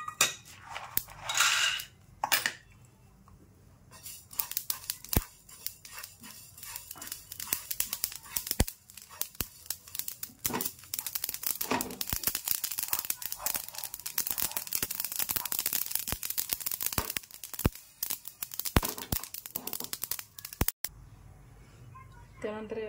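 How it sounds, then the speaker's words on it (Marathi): Niger seeds (karale) dry-roast in a hot pan for a drumstick masala, giving dense, sharp crackling and popping that runs on for about twenty seconds after a sparser start. "हे पहा आपलं पॅन तापलेलं आहे। त्यावर आपण सर्वात आधी हे कारळ भाजून घेऊया।"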